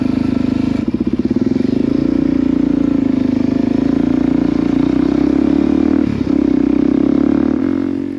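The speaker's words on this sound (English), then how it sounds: "This is a single cylinder 400cc Suzuki DRZ. Basically a dirt bike." A single-cylinder 400cc Suzuki DR-Z street-legal dirt bike rides steadily, its engine a loud, close, continuous thrum with slight pitch shifts and a brief dip near the end, plus wind rush.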